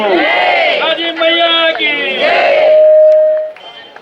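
A large festival crowd at a Karma Jayanti procession and Maha Aarti in Bhilai roars a loud, sustained chanted response to a call honoring Lord Krishna, many voices swelling together then fading out.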